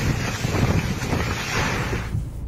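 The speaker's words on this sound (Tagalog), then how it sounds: "Malakas din ang bugso ng hangin sa bayan ng Dinapigil." Strong typhoon wind in Isabela, Philippines roars steadily across the microphone, a heavy buffeting rush that holds for a couple of seconds before easing abruptly.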